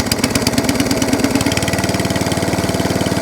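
An ATCO Balmoral cylinder lawn mower's small engine idles close by, a steady, rapid putter that settles into an even rhythmic chug, with no voices over it.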